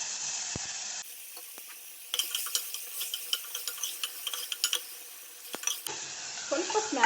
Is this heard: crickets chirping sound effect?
no